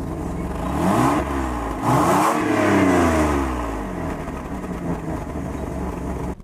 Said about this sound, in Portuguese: Escuta o ronco do motor.